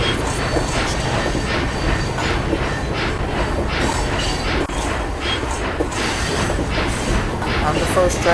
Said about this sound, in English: I'm the first train on these rails.